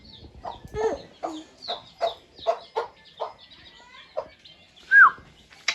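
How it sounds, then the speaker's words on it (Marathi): A hen clucks beside her newly hatched chicks, giving a series of short, close clucks spaced irregularly, with a sharper high peep near the end. "किती मस्त पिल्ले आहेत"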